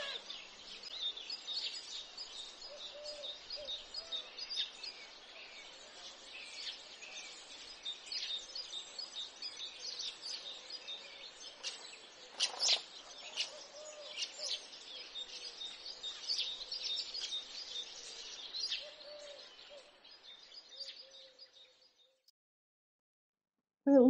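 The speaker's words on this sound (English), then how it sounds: "The birds will twitter quietly for a while" Small birds twitter quietly outdoors near a year-round garden, a long stretch of soft, scattered chirps and trills at a distance that fades out toward the end, with no talking.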